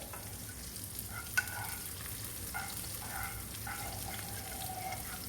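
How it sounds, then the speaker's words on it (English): Ribeye steak frying in a pan, a faint, distant sizzle and crackle behind occasional light clinks, with no talking. "I'm just going to turn my steak one more time while you hear them back there frying."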